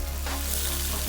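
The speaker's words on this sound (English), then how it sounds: "There goes the prawns with the ginger garlic paste," Prawns fry in a pan with ginger garlic paste, salt and magic masala, mixed through an onion base. A steady, close sizzle holds for the whole moment, with a faint stir partway through and no voices.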